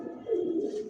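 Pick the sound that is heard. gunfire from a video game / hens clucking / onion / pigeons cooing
pigeons cooing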